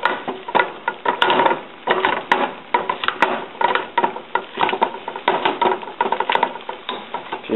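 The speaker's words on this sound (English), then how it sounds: "And then I'll use that blending stick." An immersion blender works through mashed potatoes with butter and milk, giving a steady whirring, churning sound with rhythmic scraping pulses as the stick is moved around the pot, close and fairly loud.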